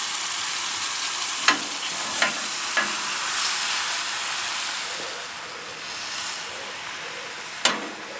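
Butter sizzling in a frying pan on a cabin stove, a steady close hiss with a few sharp clicks of a utensil against the pan.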